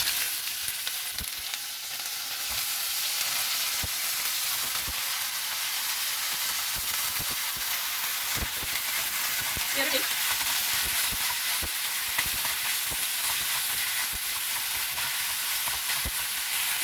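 Brinjal sizzles and fries in hot oil in a pan for a chilli-based chutney, with steady broadband crackle and occasional scraping stir clicks, continuous and fairly close, with no talking.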